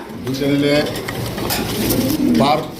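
Domestic pigeons held for sale coo in low, throaty bursts, one near and loud, with scraping and rustling from birds moving about among them.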